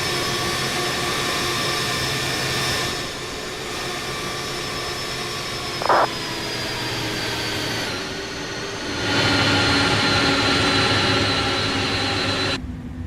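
Jet engines of a DHL Airbus A300 drone as it taxis at Frankfurt in a flight simulator, a loud steady whine with tonal hum that dips and swells, plus one brief click partway through.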